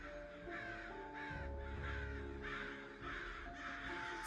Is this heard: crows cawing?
yes